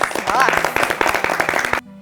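A crowd gives a round of applause for military firefighters of the 9th Battalion after their work in Brumadinho. The clapping is loud and brief, a voice sounds faintly near the start, and the applause cuts off abruptly at the end.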